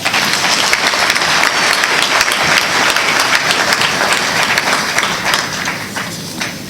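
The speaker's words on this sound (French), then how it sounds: "je vous prie de les applaudir" A crowd at an eloquence evening staging a mock trial claps steadily and loudly in sustained applause, a dense wash of hands that tapers slightly toward the end.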